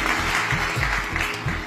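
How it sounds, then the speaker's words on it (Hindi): A short burst of clapping from a group for a woman, steady and lively, with faint voices mixed in. "तालियां हो जाए मैम के लिए।"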